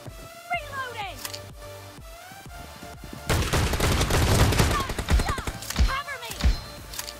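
Shotgun blasts and other gunfire ring out in the battle-royale game BGMI. Sharp shots come in clusters over busy game sound, and a player talks in the middle of the firing.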